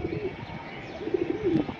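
Caged pigeons cooing at a pigeon sale, soft low burbling coos rising and falling in short phrases, close by against a steady background hum.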